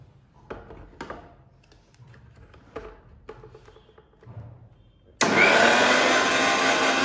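An electric grinder grinds garam masala spices with cardamom husks, bursting into a loud, steady, high whirring roar for the last two seconds after a stretch of quiet scattered clinks and knocks.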